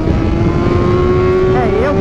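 A car engine pulls hard and close through the gears, its steady droning tone climbing in pitch as it shifts up into third and accelerates again.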